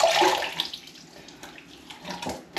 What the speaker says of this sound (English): I'm just gonna wet my face with warm water and then use the bloom water